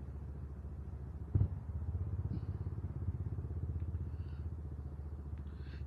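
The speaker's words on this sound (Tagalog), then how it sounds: "Tsaka nag-iba yung tunog ng motor." A Kymco KRV motor scooter idles nearby after a CVT change, a steady low putter with a brief thump early on and a few faint clicks.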